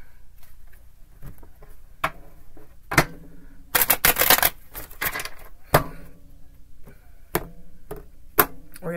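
Crisp clicks and snaps of a tarot card deck being shuffled, with one fast riffling burst in the middle and scattered taps before and after.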